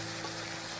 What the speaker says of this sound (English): So we are going to put in the meat.